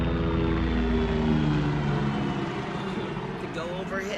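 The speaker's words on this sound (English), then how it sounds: "It's a helicopter" A helicopter flies overhead, a loud, steady low rotor and engine drone that fills the whole stretch and eases slightly toward the end, with a voice talking over it.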